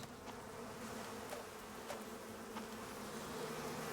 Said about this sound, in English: Oh god, bees.